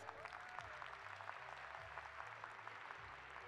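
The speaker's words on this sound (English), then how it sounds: "Let's give them a huge round of applause." Audience applause at a school function after a performance, faint scattered clapping heard from a distance over a low steady hum and background murmur.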